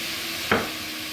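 Ground chicken with seasoning stirred in a hot pan, one short scraping stir over a steady close sizzle of frying meat.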